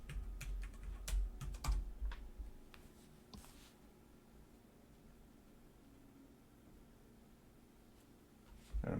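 Someone types a password on a computer keyboard: quiet, irregular clusters of key clicks, busier at the start and then sparse, with a faint hiss underneath.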